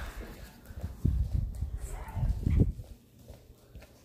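A dog gives a few soft, muffled barks and whimpers outdoors in the dark, in two short bursts with quieter gaps between them.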